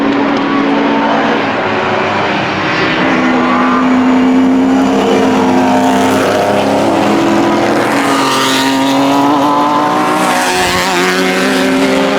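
A Porsche 944 race car fitted with an LS V8 engine roars past during multi-class circuit racing, a loud sustained engine drone with rising and falling pitch as other cars blend in nearby.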